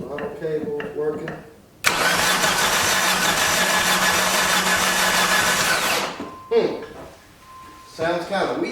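A 1989 Dodge Daytona engine cranking over for several seconds, loud, steady and weak-sounding, with no clear catch, then cutting out, with people talking before and after the cranking.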